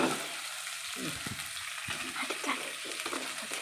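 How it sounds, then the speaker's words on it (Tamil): Small onions and tomatoes fry in a pan with a steady, close sizzle throughout, broken by faint stirring scrapes. "தக்காளியும் வெங்காயமும் கொஞ்சம் நல்லா வதங்கட்டும்"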